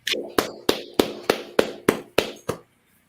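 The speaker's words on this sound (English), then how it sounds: "Let's clap it up." Audience clapping in unison at a religious class gathering, eight sharp, evenly spaced claps in a steady beat that stop abruptly after about two and a half seconds.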